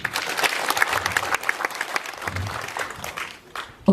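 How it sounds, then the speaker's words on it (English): Audience clapping at a stakeholder engagement event, a steady wash of hands that carries for about four seconds, thins slightly near the end, and ends with a sharp bump. "Can we give a better clap to him?"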